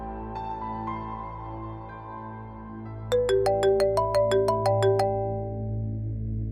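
An outgoing phone call in a Pakistani drama plays a low ringback hum, then a bright electronic ringtone chimes in a rapid repeating pattern for about two seconds before the steady tone resumes alone.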